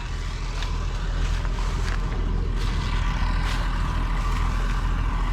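Old Oliver straw baler running on a belt drive with a heavy flywheel: a loud, steady mechanical drone and rumble with faint rhythmic clanks.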